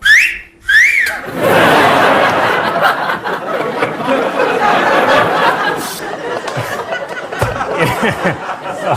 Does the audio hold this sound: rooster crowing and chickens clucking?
no